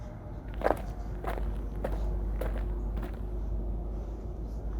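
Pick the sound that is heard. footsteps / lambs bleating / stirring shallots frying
footsteps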